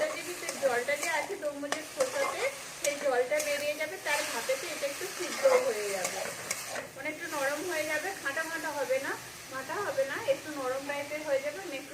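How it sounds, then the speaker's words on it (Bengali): Watermelon rind pickle stirred in a pan gives a soft, continuous sizzle and occasional scraping strokes, mostly beneath a person talking throughout. "এবার নেড়ে নেড়ে একটু নেড়ে আর একটু ঢাকা দিয়ে দেবো"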